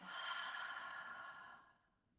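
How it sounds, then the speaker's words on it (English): A long, deep exhale out through the mouth during a yoga class, close and breathy, steady for about a second and a half before fading away, with no talking. "take a deep inhale. Exhale out through the mouth"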